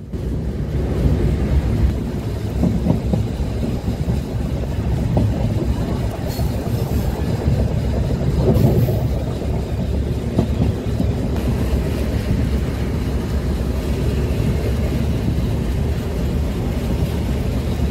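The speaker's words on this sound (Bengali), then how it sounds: "এই জন্য ট্রেনের গতিটা কিছুটা কমিয়ে রাখা হয়েছে" The Jahanabad Express passenger train rolls slowly and steadily along the rails on the Dhaka–Padma Bridge–Jashore route, with a continuous low rumble and faint rhythmic clatter, close and loud throughout, no voices.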